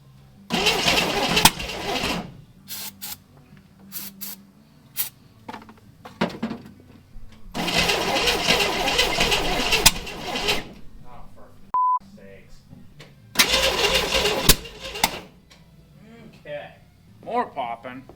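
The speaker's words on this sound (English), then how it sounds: "Definitely sputtering, like the timing ain't quite right." A long-unused Chevrolet Corvair engine cranks and sputters in repeated loud bursts with rough popping, separated by quiet gaps and short spoken remarks.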